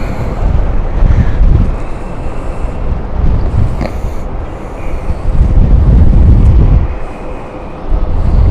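Strong gusty wind buffets an outdoor microphone at an airport spotter's position, loud rumbling surges rising and falling repeatedly.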